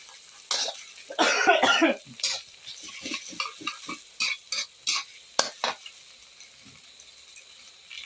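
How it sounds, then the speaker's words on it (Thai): Salted egg is stir-fried in a pan with squid nearby, giving scattered scraping and clinking of a spatula on the pan over a faint sizzle, plus a short rough burst near the start. "เมื่อผัดไข่เค็มหอมแล้ว"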